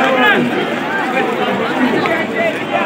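A huge crowd of pilgrims gathers on the Chandrabhaga riverbank at Pandharpur, a dense continuous murmur of many voices heard from above, with someone talking close over it.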